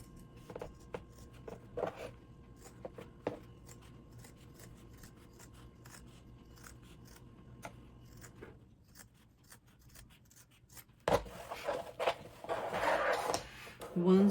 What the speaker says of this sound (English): I'm going to take my pair of scissors and then just gently start to cut the fabric.